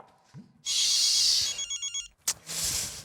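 A telephone rings, a bright electronic trill sounding in a few bursts with short pulsing tones between, fairly close and alone in a quiet room.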